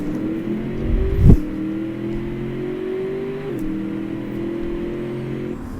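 A BattleAxe V200 car with a Beowulf Big Block V8, loud and close, revving briefly, then a gear change and a steady climbing engine drone as it pulls hard in fifth gear.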